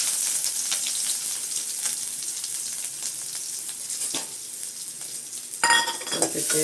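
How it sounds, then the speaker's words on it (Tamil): Mustard seeds fry and sizzle steadily in hot oil in a pan, with occasional spoon clinks against the metal; a voice speaks briefly near the end. "நல்லா பொரியட்டும்."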